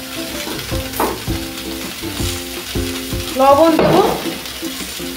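Eight mixed vegetables and coconut with turmeric and salt fry and get stirred in a pan for a village-style navaratna khichuri, a steady sizzle with utensil scrapes and a louder burst of frying near the end, while someone speaks over it.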